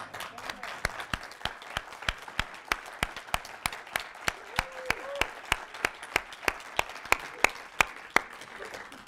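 Applause at a software community conference, heard as sparse, sharp, evenly spaced claps in a steady slow rhythm rather than a dense roar, fairly quiet against a hushed room.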